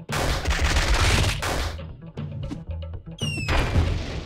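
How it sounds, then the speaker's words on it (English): A machine gun fist attack in the game LISA: The Joyful lands as a dense barrage of rapid punching impacts, loud and close. A short lull follows, then a rising whistle-like tone and a final burst of hits. "Machine gun fist."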